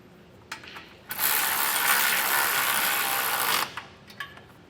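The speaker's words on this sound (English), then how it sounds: "Grab a 19mm socket, snug these 2 bolts up." A ratchet with a 19mm socket snugs up bolts on a Blue Ox base plate kit on a 2024 Ram 1500, a few loose clicks and then one long, loud, continuous burst of rapid ratcheting before trailing off.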